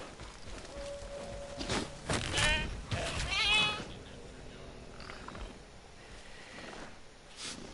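A goat in the video game Jurassic World Evolution 2 gives a couple of wavering bleats in the middle, moderately loud, with faint footsteps and soft game ambience before and after.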